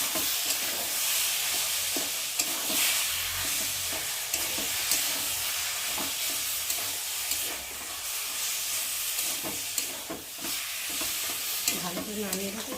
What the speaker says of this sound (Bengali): আর এখন আমি এই যে সেদ্ধ করে রাখা কচু শাকটাকে দিয়ে দেবো, দিয়ে একটু ভালো করে নেড়ে দেবো।